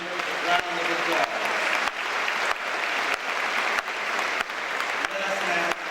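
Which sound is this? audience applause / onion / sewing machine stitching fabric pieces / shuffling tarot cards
audience applause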